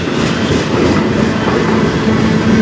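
A CN manifest freight train hauled by locomotives 3155 and 3049 rolls past in Sarnia, Ontario, a loud, close, continuous rumble of railcars with faint wheel clatter on a cold, windy day.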